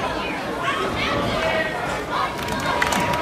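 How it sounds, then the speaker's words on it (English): A wrestling crowd at a Tornado Pro Wrestling event claps and cheers for Romero, a steady roar of many spectators under commentary, swelling slightly toward the end. "you can hear the crowd clap when you get behind him"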